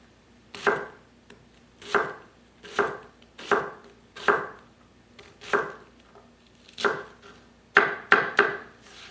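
Onions chopped with a knife on a board, about ten crisp, evenly spaced thuds in a steady rhythm that quickens into a quick double cut near the end, close and clear with no talking.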